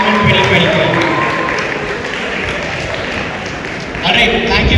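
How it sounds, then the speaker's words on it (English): Applause rings out for journalists at the CANMUN 2023 closing ceremony, a sustained crowd clapping that dips slightly midway and then swells again, with people talking and cheering through it. "So a round of applause for all the journalists at CANMUN 2023."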